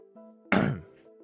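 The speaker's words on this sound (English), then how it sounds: "I was just clearing my throat." A single close, raspy throat clearing, one short rough burst set against a quiet background hum.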